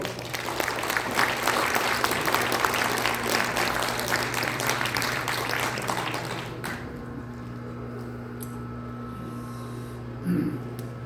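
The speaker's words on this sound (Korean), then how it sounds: "박수로 환영해 주십시오" Sustained applause fills an auditorium at the launch ceremony of a Korean political alliance, dense clapping that stops abruptly after about six and a half seconds, leaving a quiet room hum and brief sounds of movement.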